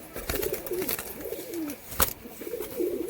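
A pair of adult red pigeons coos in repeated rising and falling calls up close, broken by a few sharp clicks and one loud snap.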